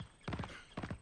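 Horses' hooves clip-clopping on a forest road, two quick clusters of close, loud hoof strikes in a brisk rhythm within a single second, no voices over them.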